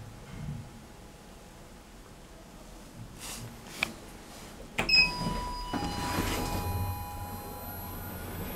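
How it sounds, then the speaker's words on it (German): A library lift door in Neubrandenburg's regional library slides open, a brief mechanical whoosh and clunk near the middle, followed by a steady machine hum and a faint tone against quiet room noise. "Türe öffnet."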